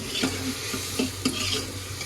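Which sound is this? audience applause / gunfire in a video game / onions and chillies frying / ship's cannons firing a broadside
onions and chillies frying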